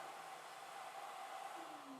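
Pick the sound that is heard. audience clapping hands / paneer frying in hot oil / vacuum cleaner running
vacuum cleaner running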